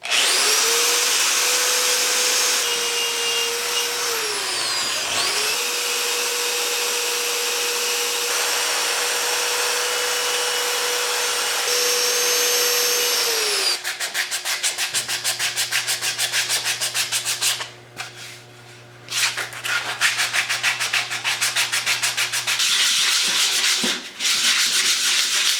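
A power sander grinds across wood to smooth out ridges in a workshop, a continuous high whine with shifts in pitch and brief pauses as the tool changes pressure, running alone without speech.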